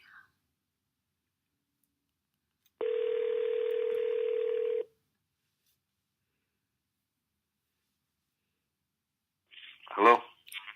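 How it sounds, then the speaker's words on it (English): A telephone call is placed: a single steady tone sounds for about two seconds amid silence, followed later by a brief burst of ringing or line signal, with faint faraway voice near the start. "let's dial him right"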